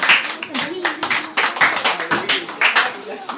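A class in a science lesson gives itself a round of applause: a small group claps in uneven bursts of distinct, close claps, with voices talking over them throughout.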